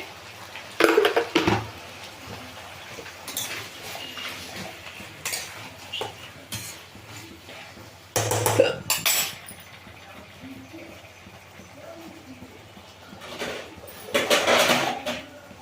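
A metal lid clanks onto a cooking pot of eggplant and peanut palya in a home kitchen, with a few sharp clatters and knocks spread out over quieter stretches.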